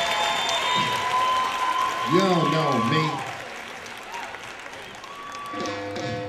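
Applause for elementary school children at a poetry slam, steady clapping and crowd noise running under a loud amplified voice addressing the audience.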